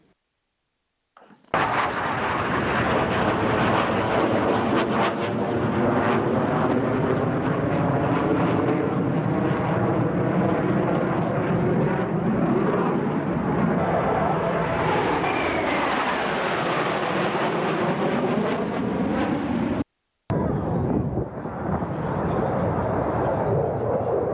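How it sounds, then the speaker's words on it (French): Korean air force combat jets performing synchronized formation maneuvers in an air show demonstration produce a loud, sustained roar that swells and shifts in pitch as they pass, with a brief break near the end. "une démonstration aérienne exécutée par des unités des forces aériennes coréennes, comprenant des manœuvres aériennes et des formations synchronisées d'avions de combat"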